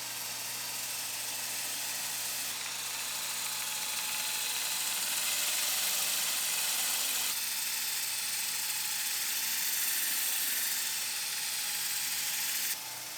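Sandpaper rubs against a spinning wood bowl on a lathe, a continuous bright hiss over the steady whir of the motor, close by and without talk, the pitch shifting slightly as pressure changes.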